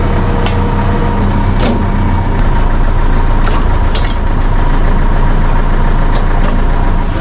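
A semi truck rumbles heavily nearby on a farm as it is driven into a pit, its deep, loud engine drone continuing throughout with a few short clanks and knocks.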